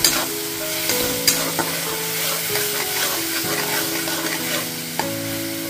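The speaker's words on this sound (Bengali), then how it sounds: "এটা দেওয়ার পর ভালোভাবে এটা কষিয়ে নেব। 2 মিনিট ধরে এটা ভালোভাবে কষিয়ে নিতে হবে।" Ground onion-garlic paste sizzles steadily in hot oil in a pan while being stirred and sautéed for a curry, with scraping knocks of the spoon recurring over the continuous frying hiss, close and fairly loud with no talk.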